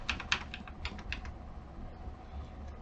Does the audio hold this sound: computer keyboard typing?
yes